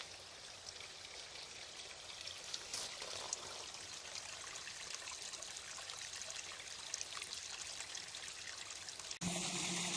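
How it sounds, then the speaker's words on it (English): A little waterfall in a forest creek splashes and trickles in a steady, fairly close rush of falling water, unbroken by voices and cut off abruptly near the end. "down a little ways, and I found a little waterfall."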